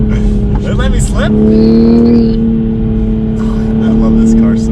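A Toyota A90 Supra's engine drones at steady high revs while the car is driven on a race track. The tone is loud, sustained and close, with someone talking over it.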